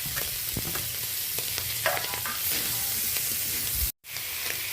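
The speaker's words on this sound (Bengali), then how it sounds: "তো এখন ভেজে রাখা আলু আর উচ্ছেটা দিয়ে দিলাম।" Fried potatoes and bitter gourd added to a hot pan of shrimp curry, giving a steady close sizzle with a few stirring knocks, then a brief gap before the frying resumes.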